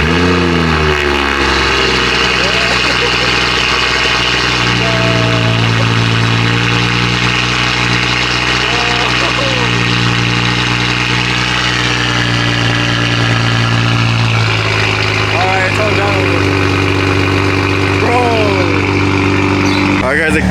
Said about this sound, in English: We're gonna hear this exhaust right now.